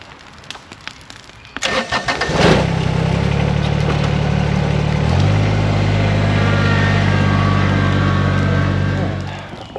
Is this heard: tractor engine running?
yes